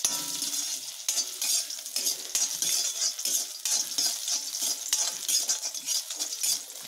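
A piece of ginger sautéing in sesame oil in a pan: steady bright sizzling with repeated scrapes and clinks as it is stirred, close and continuous with no talk.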